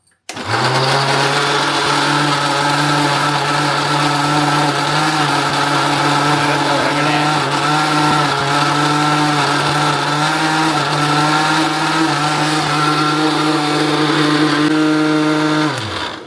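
A mixer grinder whirs steadily as it grinds tomato chutney with onion, running loud and close for a long stretch before cutting off abruptly.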